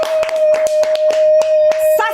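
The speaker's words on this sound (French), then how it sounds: "Applaudissez, oh!" People clap at a lively gathering in a series of sharp, separate claps with a steady tone ringing underneath.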